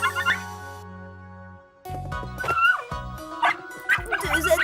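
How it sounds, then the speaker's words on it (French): Two cartoon puppies bark and yip in quick, high, playful bursts, close and lively, with a short quiet gap near the start and some whimpering squeaks between the barks. "Deux adorables petits chiots!"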